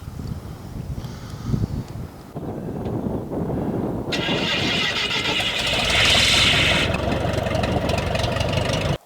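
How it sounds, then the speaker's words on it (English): A Piper light aircraft engine starts and warms up, building from a rough rumble to a louder steady drone with a rising whine, mixed with wind and voices speaking nearby. "as Luke warmed up his Piper P7"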